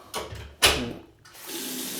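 A hotel bathroom tap on a floating hotel runs with fairly good pressure, giving a close, hissing splash of water that surges, briefly dips, then settles into a steady stream.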